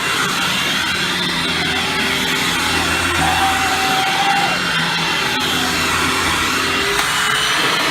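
A Hoover Windtunnel self-propelled upright vacuum cleaner runs at a loud, steady roar throughout, with a thin high whine sliding in briefly near the middle and no voices.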